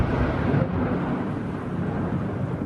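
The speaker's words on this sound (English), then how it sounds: "Auckland's skyline illuminated by a lightning strike, followed by a thunderous boom." Thunder rumbles over Auckland after a lightning strike during an intense thunderstorm, a loud, deep, continuous roll that stays heavy and sustained throughout, with no voices.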